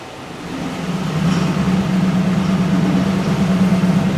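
A car engine is held under load while power braking, its steady low drone gradually rising in level and holding a strong even hum, loud and close, with no talking.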